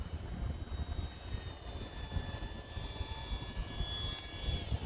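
A Durafly Tundra V2 RC airplane flies with its flaps fully down, giving a steady electric motor whine under strong wind rumble that continues throughout with no pauses.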